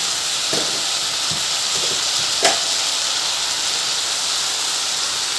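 Okra and tomato curry simmers in a covered pan, giving a steady, loud sizzling hiss throughout, marked by a few faint taps and one brief clink.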